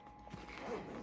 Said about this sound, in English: the zippers come down on both sides, so it opens up